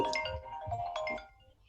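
A mobile phone ringtone cuts into a maths lesson as a short melodic run of bright electronic tones, fairly close, that fades out toward the end.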